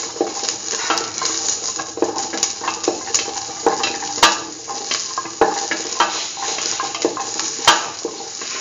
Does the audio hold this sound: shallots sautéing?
yes